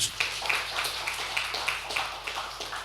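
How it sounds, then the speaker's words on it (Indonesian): A church congregation claps together during a sermon, a rapid, steady patter of many hands at moderate loudness, with no talking over it. "Tepuk tangan bagi dia."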